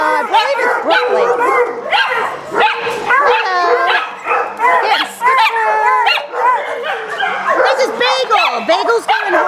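Several dogs at an animal rescue bark, bay and whimper in a loud, busy overlapping chorus, with one bugle-like baying bark among them and people talking throughout.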